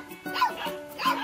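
Five-week-old Bernese mountain dog puppies yipping and barking, a few high, close little barks in quick succession, with faint background hum.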